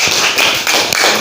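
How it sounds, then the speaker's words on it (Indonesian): A classroom claps for a student: a short, loud patter of hands, close and busy, lasting barely over a second. "Tepuk tangan untuk Numa"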